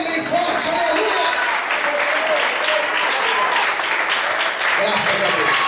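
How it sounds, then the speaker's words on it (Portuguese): A church congregation claps loudly and continuously for several seconds, a dense wash of applause with voices and shouts mixed in among the crowd. "glorifica e aplauda Ele bem forte"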